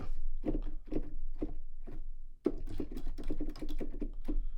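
Keys of a Behringer Motor 61 MIDI keyboard are pressed in a steady series of close, soft thumps and clicks, some spaced out and then a denser run, with no talk.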